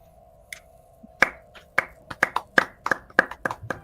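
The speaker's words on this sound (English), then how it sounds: "Clapping." A single person claps a few times in an uneven rhythm, sharp close hand claps in a quiet room, picking up pace toward the end.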